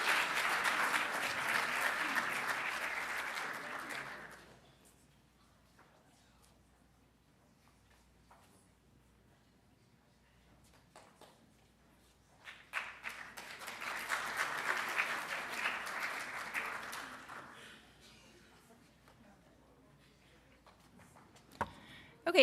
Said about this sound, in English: I think you can clap again if you want.